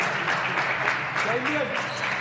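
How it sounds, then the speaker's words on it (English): Applause from spectators at a professional PSA squash match at the Namibian Open, a steady broadband patter of clapping that holds at even loudness from start to end, with faint voices mixed into the crowd. "Applause"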